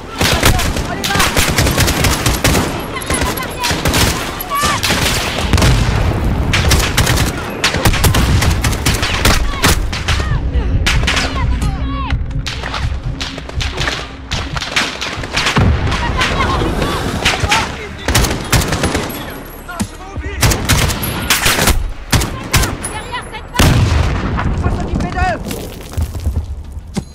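Heavy gunfire in the Call of Duty Modern Warfare campaign as soldiers shoot at a Russian vehicle, with dense overlapping rifle bursts and booms throughout and shouted voices over the fighting.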